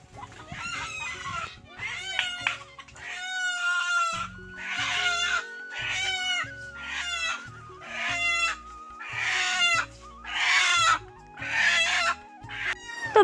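A chicken being chased and caught near a village pond lets out a string of loud, repeated squawks and clucks in short bursts, close and insistent, with some voices nearby.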